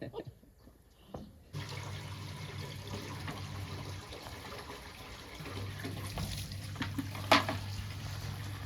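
Water pours steadily from a tank into another tank on a farm, a continuous close gushing flow that starts abruptly after a quiet moment, with faint knocks and movement around it.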